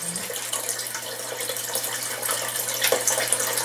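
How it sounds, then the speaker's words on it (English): Water trickles steadily down the front of an aquaponic waterfall garden tank, a soft continuous close trickle with light splashy texture and no voices. "it kind of trickles down the front."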